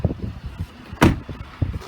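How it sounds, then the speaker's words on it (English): A pickup truck crew cab door shuts with one solid thump midway, close by, amid quiet outdoor background and faint handling noises. "Shutting the door here,"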